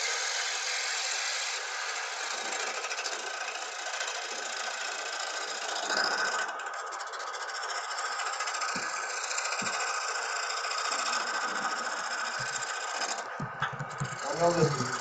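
A wooden lidded bowl being turned on a lathe, a steady close scraping and rasping of the tool on the spinning wood that runs continuously with slight surges and a few brief knocks.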